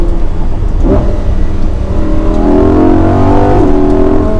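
A Lamborghini Huracan EVO engine in Corsa mode revs loudly and close, with a couple of quick blips and rising pitch sweeps as it climbs and shifts, continuous throughout with no talking.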